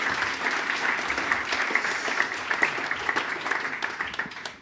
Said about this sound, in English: Warm applause for Jaime Levy